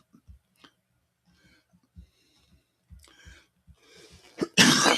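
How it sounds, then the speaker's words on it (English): A person coughs several times in short, dry bursts, then clears the throat and exhales heavily at the end; close and moderately loud. "I've got a bad cough going on."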